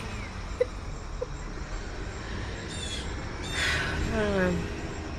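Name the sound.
loud birds in a distant tree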